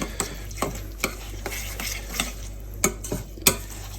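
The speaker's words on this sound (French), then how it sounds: "et on mélange bien." A spoon stirring raw salmon tartare mixed with lemon juice in a bowl, a series of close, light scraping clinks at an irregular pace over a faint steady hum.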